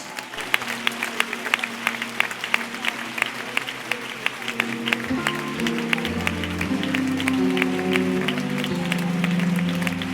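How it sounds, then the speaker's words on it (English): A church congregation claps hands during a prayer service, with sharp, rhythmic claps continuing steadily over a sustained musical keyboard drone that shifts chords partway through. "Clap your hands that you pray for her."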